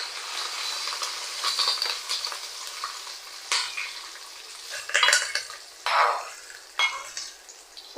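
A spoon stirs and mixes curd rice inside a vessel, giving soft, wet scraping and squelching strokes, with a few louder scrapes near the end and no talking.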